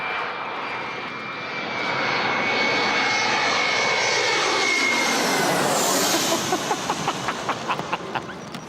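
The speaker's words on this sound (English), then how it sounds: "see one of our airplanes come over the top just before it lands" An airliner roars low overhead on its final approach to land, a loud, broad jet rumble that swells and sweeps past over several seconds with a rising whine, no voices.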